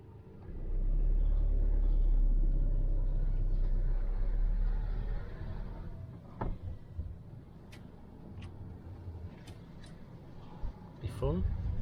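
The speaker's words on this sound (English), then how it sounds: "Just driving through Port Isaac" A car driving along narrow Cornish lanes through Port Isaac, with a loud low engine rumble at first that eases into a quieter steady drone, and a few clicks and knocks later on.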